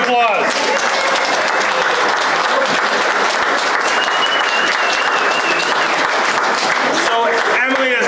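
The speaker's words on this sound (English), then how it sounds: "give her a round of applause." Loud, dense applause from a crowd at a workshop pancake breakfast, continuous clapping with voices cheering and talking over it throughout.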